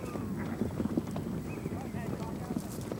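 A herd of horses driven on a Montana ranch clatters through a gate, hooves thudding and clopping in an irregular scramble beneath a voice and light wind.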